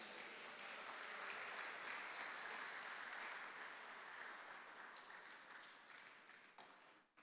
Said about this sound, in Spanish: Puede darle palmas al que vive.